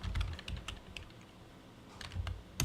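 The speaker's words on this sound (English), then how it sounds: "I typed in search for the word shift." Keys clatter on a computer keyboard during a search for a word, a quick cluster of close taps, a short lull, then another burst of keystrokes, crisp and moderately loud.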